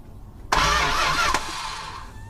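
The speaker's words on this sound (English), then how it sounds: "I'm gonna start rotating the engine, so it might get a little bit loud down there" The engine of a 1964 Dodge Custom 880 is cranked over and rotated during timing chain diagnosis. It comes on abruptly after a quiet moment as a loud, steady churn, then drops slightly in level and keeps running nearby.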